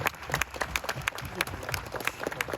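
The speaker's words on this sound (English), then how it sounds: "let's have a round of applause" Applause from a crowd gathered at an outdoor cars and coffee meet, scattered but steady clapping at moderate distance, with some voices mixed in.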